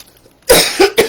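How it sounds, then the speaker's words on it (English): A woman coughs three times in quick succession, close and fairly loud, after a moment of near silence. "Excuse me, I'm so sorry, I'm coughing."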